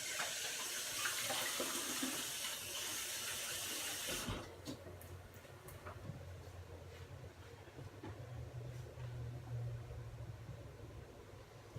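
Tap water runs steadily into a kitchen sink while hands are rinsed, a continuous hiss that changes tone partway through as the flow hits the hands, with no talking.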